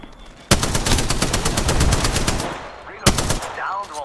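Automatic gunfire from the battle royale shooter Apex Legends, two loud bursts of rapid, evenly spaced shots, the first running about two and a half seconds, then a short pause before another burst, with a faint voice underneath.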